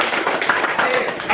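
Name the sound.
classroom clapping for a student named Krisna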